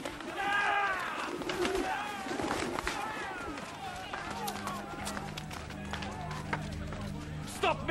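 Pigeons coo and flutter close by among shuffling, knocking and a busy crowd, with bird calls early on and voices throughout.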